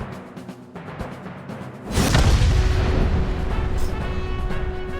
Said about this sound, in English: Sometime later, the burning fuse inside the body reaches the explosives.